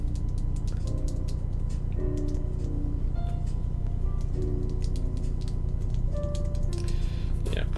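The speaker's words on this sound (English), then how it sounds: "We're just going to test all the keys, make sure everything's working." Keyboard keys clicking and tapping in quick irregular bursts, one after another, with a steady low hum running underneath.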